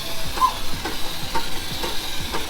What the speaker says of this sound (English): This is a 1911 Stanley Steamer, Model 62 Tourer. This is a steam car,